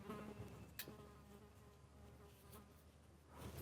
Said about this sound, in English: Another biting fly buzzing around me.